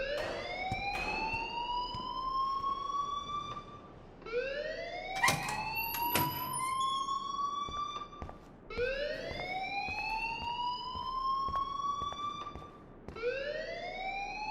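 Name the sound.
alarm ringing in video game Life is Strange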